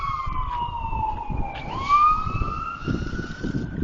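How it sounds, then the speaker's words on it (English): An ambulance siren wails steadily in the aftermath of a blizzard, a loud continuous tone that sweeps down and back up over a low rumble of traffic, with no talk. "Ambulance they can't get through."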